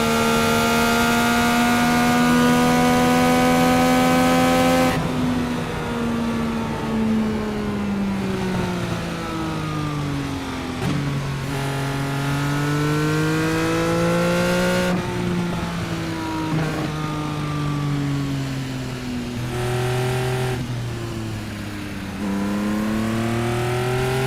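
Indy 500 race car engines in a racing video game, a loud continuous high-pitched whine whose pitch climbs through each gear and drops sharply at every shift, with no talking over it.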